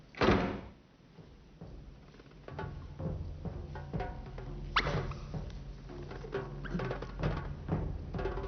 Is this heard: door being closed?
yes